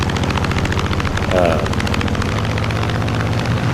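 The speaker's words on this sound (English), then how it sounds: "But that engine sound," A droning propeller engine of an F6F Hellcat in a flight simulator game hums steadily with a low, pulsing rhythm, loud and continuous like an aircraft flying close by.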